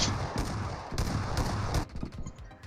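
A shotgun fires in the video game PUBG during a team deathmatch, a dense burst of loud blasts and clattering reports that cuts off abruptly, followed by fainter scattered shots.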